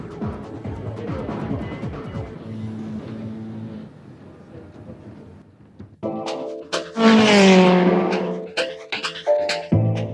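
Race cars in the video game TOCA Race Driver 3: engines rev and roar past, then a loud, rising high-pitched engine scream with tire squeal bursts in after a brief lull, close and intense.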